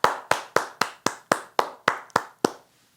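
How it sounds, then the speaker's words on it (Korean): Church congregation clapping in unison at the close of a Sunday worship service: about ten sharp, evenly spaced claps, loud and close, ending abruptly. "우리 예배를 받으신 하나님께 우리 다시 한번 큰 영광의 박수 올려드립시다"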